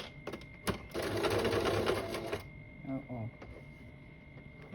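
A close sewing machine whirs in a quick, steady run while straight stitching the end of a nurse's scrub cap, then stops, and someone speaks over the quieter room afterward.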